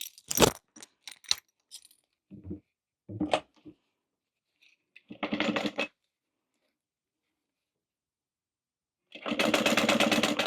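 A sewing machine bastes a zipper flange onto a Louie waist pack, running in two short bursts of quick rhythmic stitching, with scattered clicks and fabric handling between them.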